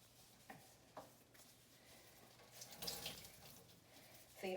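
Liquid from a quiche filling wrung out through a cloth, heard as faint, soft trickling and dripping water with a few light squeezes and a slightly louder splash toward the end.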